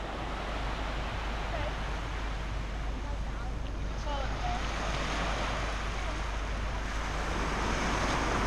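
Ocean waves wash onto a beach on Con Dao Island, Vietnam, a steady broadband surf roar mixed with wind buffeting the microphone, continuous and fairly close throughout.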